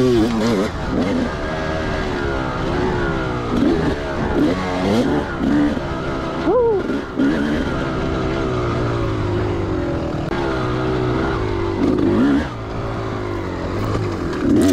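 A 2004 Kawasaki KX250 two-stroke dirt bike rides the track at Table Rock Dirt Park, its engine screaming loud and close throughout, revving up and dropping through gears with brief throttle chops, a voice talking over it.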